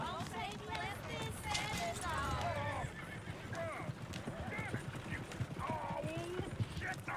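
Horses in the Red Dead Redemption 2 video game clip-clop and whinny through a busy scene, hooves thudding steadily at mid distance while people talk over the action.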